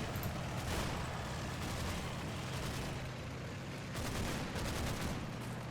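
A 95mm howitzer firing in Combat Mission: Battle for Normandy, with booming blasts and rumbling gunfire bursts rolling through a continuous din of battle, loudest at the start and again near the end.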